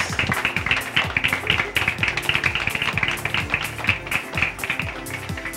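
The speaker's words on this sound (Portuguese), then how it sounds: "Palmas pra Thaís." Applause for a contestant walking the runway at a televised pageant, a steady patter of many hands clapping throughout, fairly close and even in loudness, with faint voices underneath.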